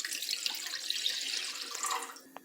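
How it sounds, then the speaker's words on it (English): A pot fills with water from a kitchen tap, a steady close hissing stream that ends with a small clunk, no talking. "Fill a pot with water."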